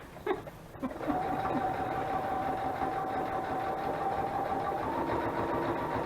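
Sewing machine running a zigzag stitch while sewing paper ephemera into a craft journal: a steady, continuous mechanical hum with a sustained tone, close and fairly loud, after a few brief knocks at the start.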